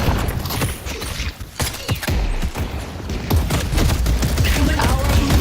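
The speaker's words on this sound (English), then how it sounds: "Pulse grenade." A pulse grenade goes off during a fight in the video game Deadlock, a loud burst of crackling blasts and rattling gunfire with sharp thumps piling up across the few seconds.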